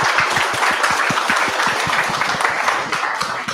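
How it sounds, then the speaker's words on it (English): Audience applause following a talk at a tech meetup, a dense steady wash of many hands clapping throughout, fairly loud and close, tapering slightly at the end. "Huge round of applause for Jan."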